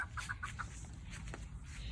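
A pet bird makes a quick series of short, clucking chirps close by, then a few softer calls over faint room noise.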